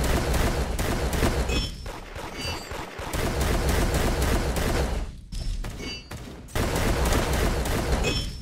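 Gunfire in the online game Da Hood rattles in dense rapid bursts, loud and close, with brief pauses between volleys and a few heavier thumps.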